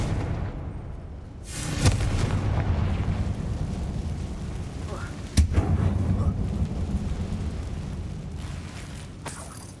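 In the video game Hogwarts Legacy, the Confringo explosion spell is cast inside a mine, giving a sharp blast near the start and a second loud boom midway, each trailing into rumbling debris and ambience.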